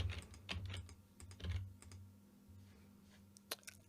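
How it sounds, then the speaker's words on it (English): Rapid bursts of computer keyboard typing, clustered clicks near the start and another burst late on, over a low steady hum with no talking. "when I press play and I type in some gibberish"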